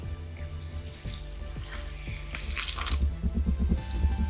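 Water poured into a bowl of gluten-free cracker dough mix with oil and Himalayan salt, a close, steady trickling and splashing that grows fuller toward the end, with no talk.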